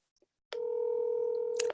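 A steady electronic ringback tone on a phone line, sustained and moderately loud, starting abruptly after a brief click, with a short burst near the end.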